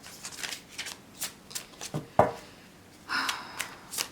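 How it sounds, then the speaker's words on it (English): Gold-edged tarot cards are shuffled by hand in short riffling bursts and soft taps, an irregular series of crisp flutters close to the listener, with no talking. "just give me a few seconds for me to shuffle"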